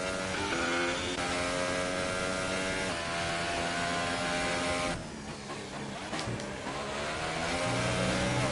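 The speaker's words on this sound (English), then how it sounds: "as they rev up the engine in the pit lane" Race car engine revving in a pit lane at a racing event, a loud sustained tonal drone with shifting pitch that dips briefly midway, then swells back up, nearby and continuous.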